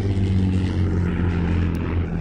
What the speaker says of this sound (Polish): Czekaj, samolot, czekaj.